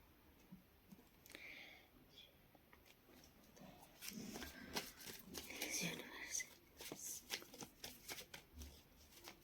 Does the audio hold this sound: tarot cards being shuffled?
yes